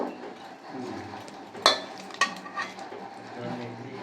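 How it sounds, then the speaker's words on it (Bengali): Onion pakora batter is squeezed and kneaded by hand in a bowl, giving soft, close squelching and mixing noises with a couple of bright clinks against the bowl. "এইভাবে শক্ত করে আমি মেখে নিচ্ছি এইভাবে দুলে দুলে মিখে নেব"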